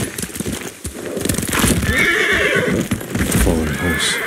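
A horse in the Ghost of Tsushima video game whinnies loudly and close, with clip-clopping hooves and snorts around it; the neighs rise sharply midway and settle into heavy breathing at the end.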